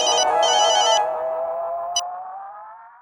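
A synthetic phone ringtone plays a bright, looping electronic melody, loud and close, continuing steadily across the clip with a brief high click partway through.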